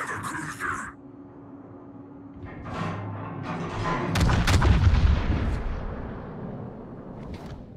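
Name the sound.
naval artillery fire on enemy warship, video game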